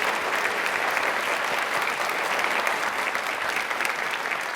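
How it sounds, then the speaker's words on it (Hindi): A studio audience on a Hindi quiz show claps loudly and continuously for several seconds: a dense, even patter of many hands with no voices over it. "अपने लिए एक बार तालियां जोरों"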